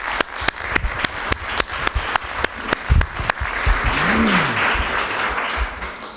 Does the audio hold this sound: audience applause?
yes